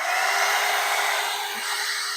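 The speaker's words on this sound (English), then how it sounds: "we're going to use this 2-in-1 Lange brush dryer. And I'm going to go ahead and put the heat to high" A 2-in-1 Lange brush dryer runs on high heat, giving a steady, loud, close whoosh of blown air that holds nearly constant throughout, with no talking.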